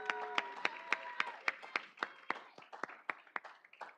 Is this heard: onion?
no